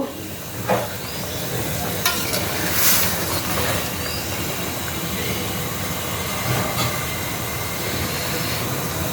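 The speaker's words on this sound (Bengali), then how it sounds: "দেখো ঝোলটা ফুটে উঠছে" Boal fish curry broth with potato and flat beans bubbles in a pan, a steady rushing hiss with faint pops and clinks, close and fairly loud, with no voices.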